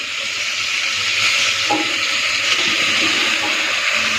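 Carrot, capsicum, potato and papaya tipped into a pan of lightly fried chicken, giving a loud, steady hiss of sizzling oil that holds evenly throughout with a faint stir partway in.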